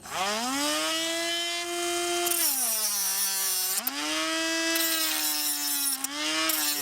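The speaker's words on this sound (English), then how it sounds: "So I'm going to have to cut this using a Dremel." A Dremel rotary tool cuts through a bolt on an electric winch mount: a loud, continuous high whine that sags in pitch whenever the disc bites into the metal and then climbs back up.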